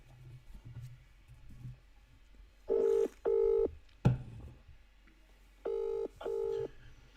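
Telephone keypad tones sound in two quick pairs of clear beeps, separated by a short thump, as a call is dialed during a live stream with quiet background hum.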